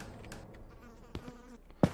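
An insect buzzes faintly in a VHS-style horror video game, a thin drone against quiet background noise, broken by a few soft knocks and a sharper thump near the end.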